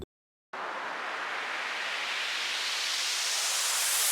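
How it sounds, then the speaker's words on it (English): A steady hiss of white noise riser for a Brazilian bass track starts abruptly after a short silence and slowly brightens and swells over a few seconds, rising in pitch toward the end. "Finally, add a quick white noise riser."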